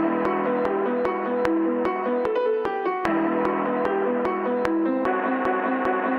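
A bounce beat loop plays with steady, evenly spaced percussive hits over a repeating melodic pattern, even in loudness and without any voices.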